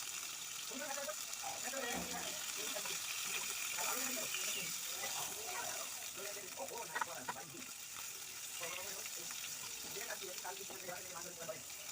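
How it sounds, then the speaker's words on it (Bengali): Eggplant pieces, salted and coated with turmeric, frying in oil in a kadai, a steady close crackling sizzle with spattering pops running throughout. "বেগুনগুলোকেও ভেজে তুলে নেব।"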